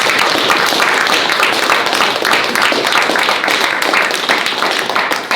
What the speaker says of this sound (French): Déjà je crois qu'on peut les applaudir.